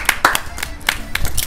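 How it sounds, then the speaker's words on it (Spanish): Several people clap in a short burst of applause, loud and close, with uneven overlapping claps lasting just over a second. "Un aplauso."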